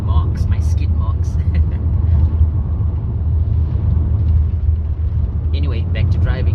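Car driving on a road along the south coast, likely a Lumina SS: a steady low engine and road rumble with some brief higher noises, fairly close and continuous.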